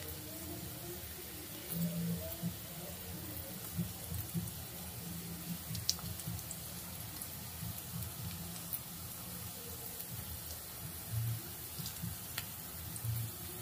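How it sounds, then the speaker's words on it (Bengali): Potato onion fritters (aloo piyaji) frying in hot oil, a continuous soft sizzle and bubbling hiss with occasional clinks as they are turned, no voices. "উল্টে পাল্টে ভালো করে পেঁয়াজিগুলো ভেজে নেব"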